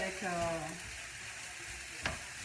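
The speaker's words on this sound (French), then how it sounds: "Donc là, je remue la viande hachée" Ground beef and carrots fry in a pan under a steady, faint hiss, with a single spoon scrape near the end and a brief hum early on.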